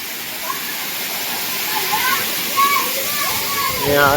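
A steady, loud rush of a monsoon waterfall fills the scene, with faint children's voices and occasional splashes mixed in.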